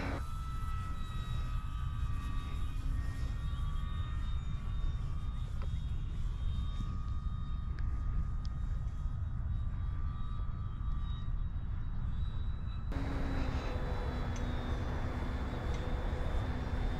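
An E-flite T-28 Trojan RC model plane flies and lands in the wind, its electric motor a steady whine over continuous wind noise, with a pitch shift near the end.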